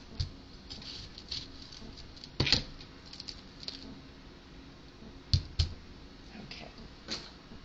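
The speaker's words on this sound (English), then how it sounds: "let's go ahead and do a small dice" A knife dices vegetables on a cutting board for hard shell tacos, producing soft scattered taps and a few sharper knocks at irregular intervals over a quiet kitchen background, with no talking.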